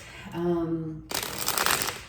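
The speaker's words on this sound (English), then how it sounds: "when I shuffle the cards and lay them out and they fall out sideways" A deck of cards is shuffled close up, a quick crisp riffling flutter that starts abruptly after a brief tone and runs steadily to the end.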